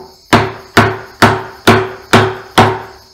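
A chisel is struck by hand to cut a mortise in a timber frame, giving six loud, close, evenly spaced thuds about half a second apart, each with a short woody ring.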